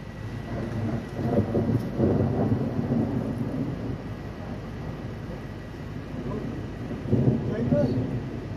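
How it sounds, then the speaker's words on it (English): Thunder from a summer thunderstorm in Valley Stream, New York rolls in long, low rumbles that swell and fade, growing louder near the end, with light rain faintly audible beneath. "Yeah, definitely heard that thunder."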